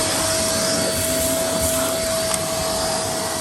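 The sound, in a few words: vacuum cleaning out drilled holes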